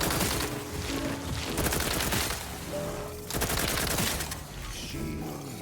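Rapid automatic gunfire and bursts of shots rattle through a firefight in The Outer Worlds 2, repeated volleys clustering across the stretch with game music and effects underneath.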